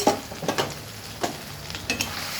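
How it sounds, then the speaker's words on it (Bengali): Eggs being stir-fried with spices in a pan, giving a soft sizzle with a few scraping stirs of the spatula at irregular intervals, close and fairly quiet. "এবার আমি ডিমের সঙ্গে মশলার সঙ্গে ভালো করে কষাবো।"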